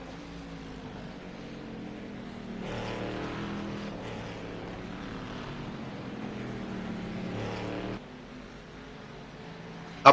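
Race cars on a road course climbing a hill through the esses onto a long backstretch, a steady drone of engine noise rising and falling as cars pass at a distance, with no talk.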